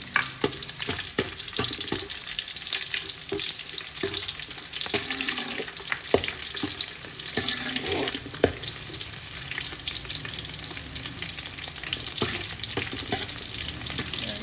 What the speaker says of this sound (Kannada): ಇದು ಚಟಪಟ ಸಿಡಿಬೇಕಾದ್ರೆ ಬೆಳ್ಳುಳ್ಳಿ ಹಾಕೋಣ. ಇದು ಬೆಳ್ಳುಳ್ಳಿ ಸ್ವಲ್ಪ ಕೆಂಪು ಫ್ರೈ ಆಗಬೇಕು.